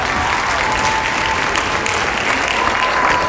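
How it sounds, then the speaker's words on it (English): An audience at the Dolby Theatre in Hollywood applauds steadily, a dense, even wash of clapping that holds at constant loudness for a few seconds. "Let's give him a round of applause."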